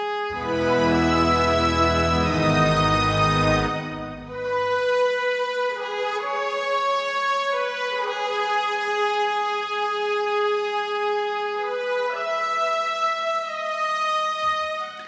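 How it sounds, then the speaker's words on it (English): Two trumpets on a legato patch from the Spitfire Symphonic orchestral library play a sustained melody, loud at first with low orchestral support, then continuing alone with smooth connected notes and no talking. "I used the two trumpets legato medium mix again"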